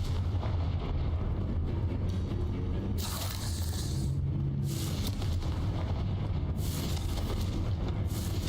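Confringo fire spell blasts in Hogwarts Legacy: a steady, noisy rumble broken by two sharp, bright bursts of fiery explosion, each lasting about a second and fairly loud.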